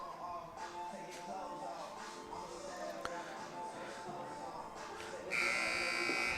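A buzzer goes off near the end at a men's college baseball game, Humber at St. Clair, to mark the end of the between-innings warm-up. It is a sustained electric tone over crowd ambience, loud and fairly distant.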